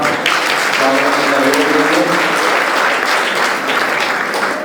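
Loud, sustained applause from an audience welcoming Doctor Satish Puri at a gathering, a dense even wash of clapping throughout, with a few voices underneath.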